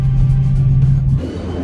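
A 1969 Ford Mustang Mach 1 on a road test, a steady low engine drone from inside the car that eases off and shifts in tone near the end of the short stretch, with no talking.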